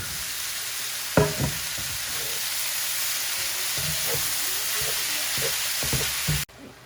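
Chicken and pork meat frying in a pan for stuffed blini gives a steady, dense sizzle, broken by a few clinks and scrapes as it is stirred.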